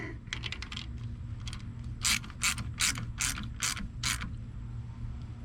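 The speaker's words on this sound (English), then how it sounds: "Tighten her down." A hand ratchet tightens down a fuel injector part with a quick run of soft clicks, then several louder, evenly spaced ratcheting bursts, close and clear over a low background hum.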